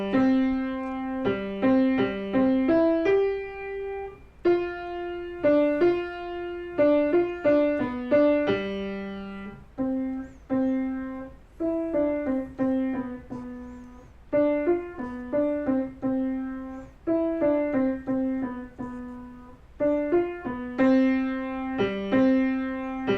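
Mozart's Eine Kleine Nachtmusik played on piano as a simple beginner melody, clear detached notes with brief rests between phrases, close and moderately loud with no voices.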